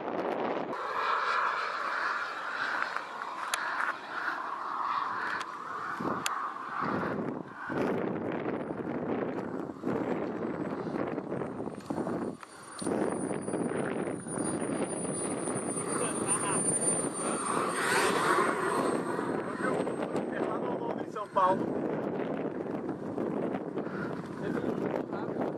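Model jet Viper FEJ powered by a K140 turbine engine flying overhead, a steady high whining roar that swells and fades as it passes, mixed with wind buffeting the microphone and occasional speech.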